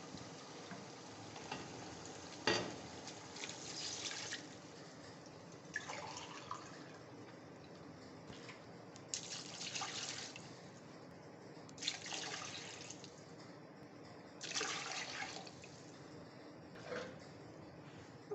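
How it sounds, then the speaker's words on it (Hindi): Water is poured into a pot of rice for matar pulao in several splashing bursts, faint against a quiet sizzling background, with pauses between pours. "अब मैं इसमें पानी शामिल करूँगी"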